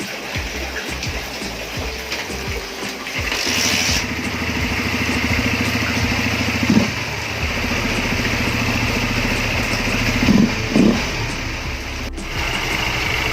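A fuel-injected Honda Supra GTR motorcycle engine catches and settles into a steady, close idle that holds loud and even with a faint rhythmic chug, plus a couple of brief revs.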